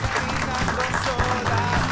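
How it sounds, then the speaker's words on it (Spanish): An audience applauds at the end of a show, a steady dense patter of clapping with voices heard through it. "Un fuerte aplauso, nos vemos."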